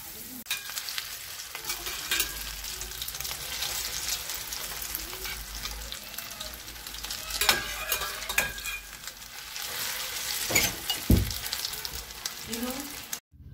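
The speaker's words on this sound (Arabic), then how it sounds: "نحرك، تحركوا وبتكتوا عشان ما يطلع بس انه بيض من دون بقدونس" A parsley and egg omelette fries in clean oil in a pan, a steady broadband sizzle with scraping stir strokes and a few louder clatters of the utensil against the pan.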